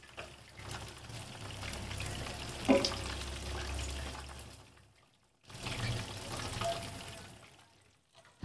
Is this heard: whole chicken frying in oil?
yes